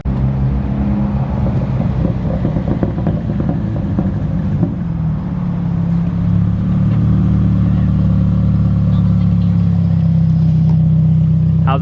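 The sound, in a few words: Nissan S13 240 race car driving back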